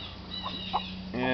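A homestead rooster gives soft, brief clucks, close but low, over steady background hum, with a louder voiced call near the end.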